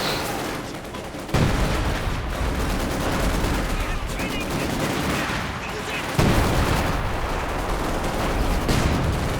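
Booming howitzer artillery and sustained small-arms gunfire from a WWII strategy game rumble in a continuous battle din, with heavier impacts standing out, under a commentator's voice.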